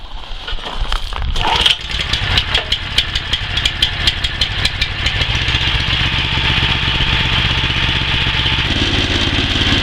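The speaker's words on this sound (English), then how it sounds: "perform a cold start on the machine if you can. Choke on." A BCS walk-behind two-wheel tractor engine is cold started with the choke on. It cranks with a few sharp pulls, catches, then settles into a loud, steady running drone that continues to the end, with no talking.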